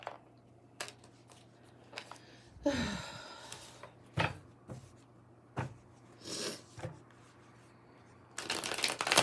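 Tarot reading cards shuffled in several short riffled bursts spread across the clip, close and fairly crisp, with brief pauses between them and a faint steady hum underneath.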